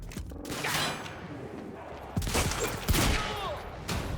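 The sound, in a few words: heavy pistol gunshots in video game Quantum Break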